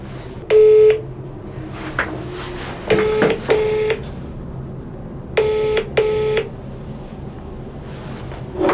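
Telephone keypad dialing tones from calling companies on an office phone: loud, near beeps in short bursts, one single and then pairs, separated by pauses, with no talking.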